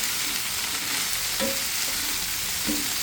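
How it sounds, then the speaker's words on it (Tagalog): Broccoli, cauliflower and carrots stir-frying in a pan: a loud, continuous sizzle with a couple of soft scraping stirs. "lagay natin ang ating broccoli, cauliflower at carrots. Haluin natin mabuti."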